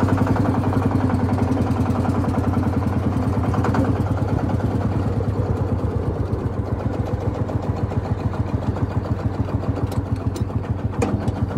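A single-cylinder 1960 John Deere Lanz D2816 tractor engine idles steadily up close, a loud, even chugging pulse that keeps going without pause.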